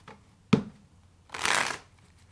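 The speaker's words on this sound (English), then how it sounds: "Let's get two more shuffles." A deck of tarot cards is shuffled, with a sharp tap, then a brief rushing riffle of cards flicking together, close and clear in a quiet room.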